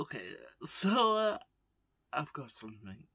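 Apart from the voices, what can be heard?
No everyday noises stand out.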